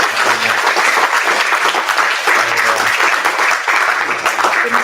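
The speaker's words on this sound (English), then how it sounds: "If we can just give a round of applause" Steady clapping from an audience at a summit gathering in Aotearoa fills the room as a dense, loud round of applause that carries on throughout.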